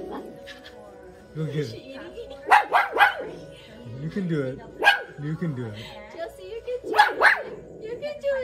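A small dog barks and yips at a tiny bug in short, sharp bursts, close by, while someone speaks encouragingly between the barks.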